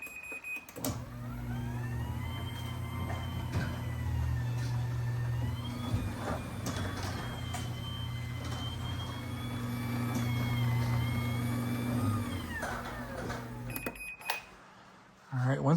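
Chamberlain D1000 garage door opener running its motor during limit setup, a long steady drone with whining tones for about thirteen seconds that stops abruptly, with beeping and a nearby voice over it.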